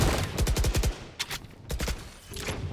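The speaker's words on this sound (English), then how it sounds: "Figs finds a nice headshot." Rapid bursts of automatic gunfire in the shooter game Valorant, a fast volley followed by a few sharper separate shots, loud and close with no talk.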